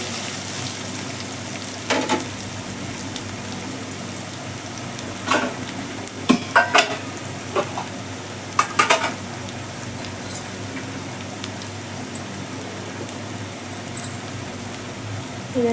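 Curry leaves and other ingredients are stirred in a hot pan for a fenugreek-leaf and moong dal dish, with a steady low sizzle and scattered sharp spatula scrapes and taps, a tight cluster of them near the middle.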